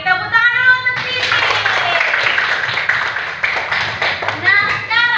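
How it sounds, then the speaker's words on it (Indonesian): Fourth-grade elementary schoolchildren clapping together in a classroom, a loud, dense burst of applause lasting a few seconds between a teacher's spoken words. "Tepuk tangan dulu untuk sini"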